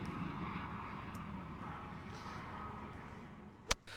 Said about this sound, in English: Is that your helicopter coming in to pick you up for later? The tranquility has been shattered at the moment by all sorts of aerial activity.